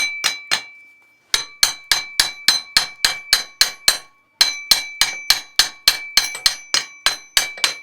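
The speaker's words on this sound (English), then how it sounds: "what you're going to start doing is just trying to tap the faceplate off of the bearing" A brass hammer taps the aluminum faceplate of a Waterway Executive spa hot tub pump to free it from its bearing. About two dozen sharp, ringing metallic knocks fall in a steady rhythm, close and loud, with a short pause early on.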